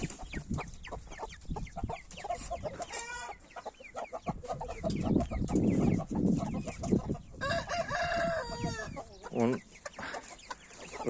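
Chickens and roosters in a summer-set backyard coop cluck and call close by, with a rooster crowing in drawn-out bursts among scattered clucks, while a person talks over them.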